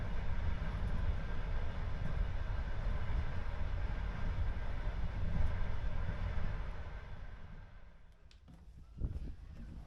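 A passenger train runs on the rails with a steady, fairly loud rolling rumble that eases off near the end, leaving a few faint knocks.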